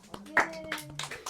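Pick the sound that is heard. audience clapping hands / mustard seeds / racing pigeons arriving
audience clapping hands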